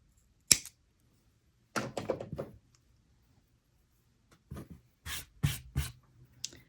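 Scissors snip off excess cord while a barrel-knot choker is made, giving a few short, close, crisp cuts and rustles separated by quiet gaps.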